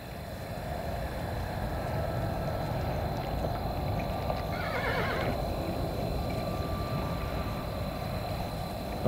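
In the video game Kingdom Two Crowns, a horse whinnies briefly midway over a steady low rumble of movement and hoof noise, with a sharp bump right at the end.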